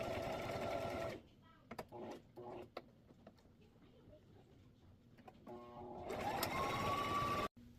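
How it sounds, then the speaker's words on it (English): A sewing machine stitches around Velcro on a fabric travel organizer in short, whirring mechanical bursts: a loud run at the start, a few brief taps in the middle, then another steady run near the end. "We are now going to take these over to the sewing machine and we are just going to stitch all around the"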